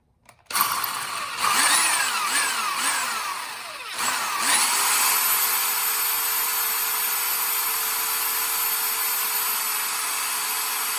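Power drill boring out rivets on a metal jalousie window frame, loud and close: the motor revs up and down in several quick surges, dips briefly, then settles into a steady sustained whine as the bit works through, with no talking.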